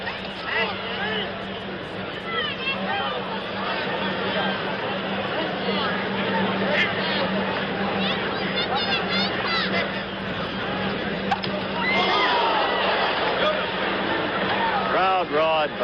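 A boxing arena crowd roars during the Roberto Duran vs Edwin Viruet fight, a thick, continuous swell of voices and hubbub that stays loud and rises further near the end.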